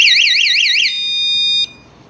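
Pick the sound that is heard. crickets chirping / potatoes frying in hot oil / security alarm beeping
security alarm beeping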